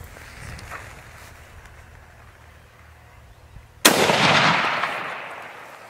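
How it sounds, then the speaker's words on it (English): A single loud rifle shot at a stag during a Montaria driven hunt cracks out abruptly after quiet outdoor ambience, its boom decaying over a couple of seconds. "The shot runs true, felling the stag where he stands."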